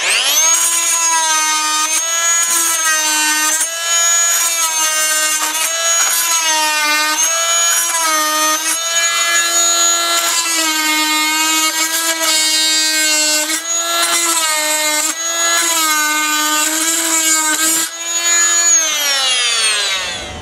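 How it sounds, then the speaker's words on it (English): A fine oscillating multi-tool with a flat blade slices timber plugs flush off decking boards, a steady close, loud buzzing cut whose pitch wavers as the blade bites and eases, running continuously without talk. "This is the fine oscillating tool. It has a flat blade on the underside and it's perfect for cutting the plugs off."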